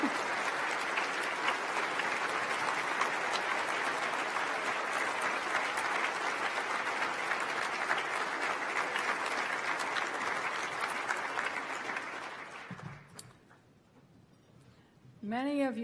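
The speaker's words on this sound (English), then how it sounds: "offer a round of applause for First Lady Michelle Obama and for all the political spouses here tonight" Sustained, dense applause from a large ceremony audience, honoring First Lady Michelle Obama and political spouses at the Profile in Courage Award event, steady and loud for about twelve seconds before fading out, with a voice starting at the end.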